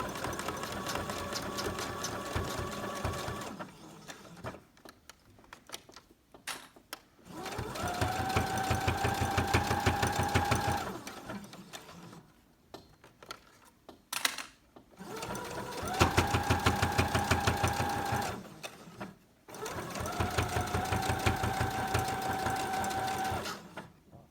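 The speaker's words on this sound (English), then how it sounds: "put the presser foot back down, and go back to my triple stitch setting." A sewing machine topstitches a fabric mask on a triple stitch setting, running in three or four steady, humming stretches a few seconds long with brief stops between them, close and fairly quiet.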